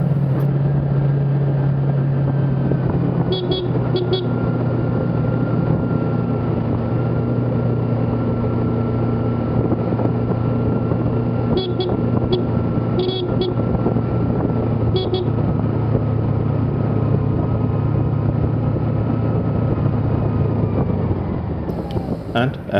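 A Kawasaki Ninja 300 motorcycle rides a winding hill road near Ooty with a loud, continuous engine drone and wind roar, its pitch shifting slightly as speed changes, and a few faint higher tones mixed in.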